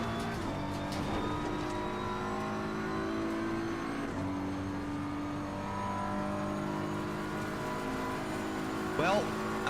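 Race cars howl around Spa in a racing video game, a continuous engine drone with shifting pitch and a brief sharp rev near the end, with voices talking over it.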